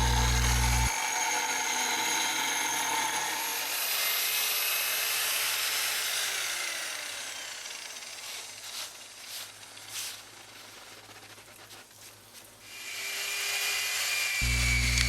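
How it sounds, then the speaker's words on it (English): A wet-dry grinder fitted with polishing pads works a concrete countertop. A high-pitched motor whine opens the clip, then drops away to quieter scraping and rattling, and the tool spins back up near the end. "in the background polishing our countertop, and these are our different polishing pads"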